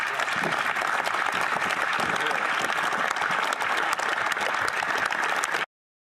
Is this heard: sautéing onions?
no